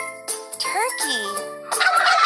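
A cartoon turkey gobbles in a kids' educational animal puzzle game, a quick warbling gobble up close, with bright jingling chimes before and after.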